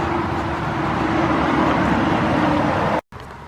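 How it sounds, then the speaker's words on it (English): Steady broadband roar of highway traffic heard from a lakeside trail, continuous and moderately loud with a faint tonal hum, briefly cut by a short gap near the end. "but of course you can hear traffic noise"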